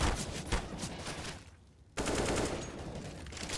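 Dense, continuous automatic gunfire in a Counter-Strike (CS:GO) esports match, shots spraying through a wall, briefly dropping off for a moment before resuming at full intensity.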